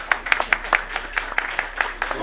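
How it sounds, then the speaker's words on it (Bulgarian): A sparse round of audience clapping for Vasko Gronkov at a Bulgarian book presentation, individual hand claps audible in an uneven rhythm, moderately close and fairly quiet. "Аплодисменти за Васко Гронков."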